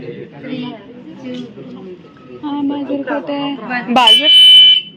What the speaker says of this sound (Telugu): బజర్ కొట్టి అమ్మా